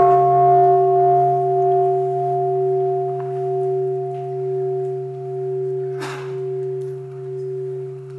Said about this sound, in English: So let us listen to the first sound of the bell